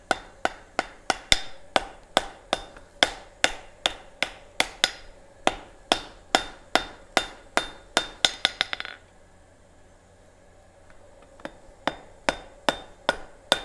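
Steel is struck with a blacksmith's flatter in a fast, even run of sharp ringing hammer blows, close and loud. After a brief pause around the nine-second mark, a slower, lighter series of strikes follows.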